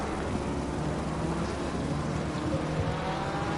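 Race cars lap Imola in Assetto Corsa Competizione as a Ferrari is passed, and dense overlapping engine roar runs steadily throughout at a close, loud level with no speech.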